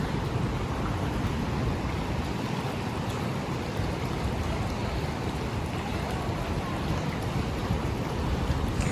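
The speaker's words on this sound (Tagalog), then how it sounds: "Sobrang lalaki na ng alon." Large ocean waves at the shore in Sri Lanka make a continuous broadband roar of churning surf, steady and fairly loud, with no distinct breaks between swells.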